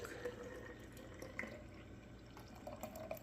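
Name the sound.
pouring raw milk into a measuring cup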